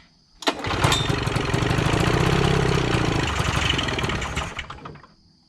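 The engine of a vintage Polaris snowmobile, recently revived after years of sitting, runs for a few seconds. A close, loud, buzzing idle rises quickly, holds steady with a rapid firing pulse, then drops away as the engine cuts out.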